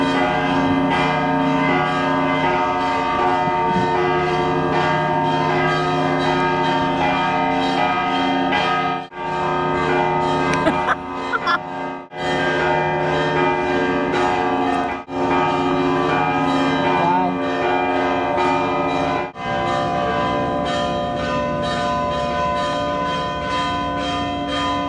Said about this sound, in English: The bells are definitely going off now.